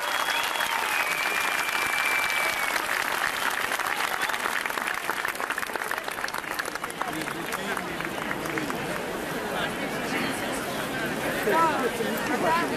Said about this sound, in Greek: Ένα θερμό, θερμό χειροκρότημα για το Άγιο Όρος μας.